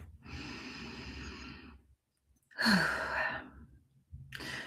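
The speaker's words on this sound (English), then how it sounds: "Take a nice deep breath." Slow, deep breaths drawn in and let out during a guided relaxation session, each long breath audible and close, separated by short pauses, with no talking.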